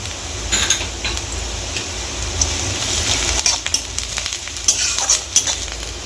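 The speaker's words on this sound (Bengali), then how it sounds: "পেঁয়াজটা হালকা ভাজা হয়ে গেছে" Onions fry in a pan with green chilies and a little salt, giving a steady sizzle close by, broken by irregular scraping clicks as they are stirred.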